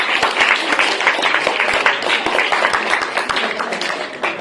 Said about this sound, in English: Let's give yourself a big round of applause.